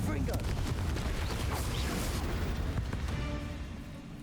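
A dense, rumbling Confringo blast from the Hogwarts Legacy video game: booming explosive roar with crackling debris that stays heavy and loud before fading in the final second.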